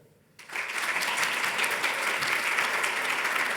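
Debate audience bursts into loud, sustained applause after a brief quiet start, many hands clapping steadily together as a show of support in a vote on AI policy.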